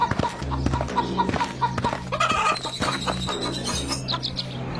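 Chickens in an animated Hindi folk tale, giving close, repeated clucks and short chirpy calls in a busy run over a low, steady backdrop.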